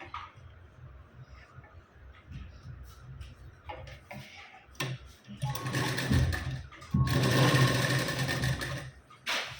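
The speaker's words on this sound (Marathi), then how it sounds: "ते बघा अशा पद्धतीने मी शिलाई देऊन घेतली." Sewing machine stitching the lining of a lehenga blouse, starting with quiet handling and a few short clicks before bursts of loud, fast, steady whirring stitching, close by.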